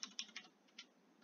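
Someone types a password on a computer keyboard: a quick run of faint, close key clicks, four or five taps followed by one last press.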